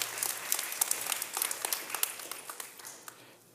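A church congregation at a Sunday service gives a burst of hand clapping, dense and even at first and thinning to scattered claps before stopping.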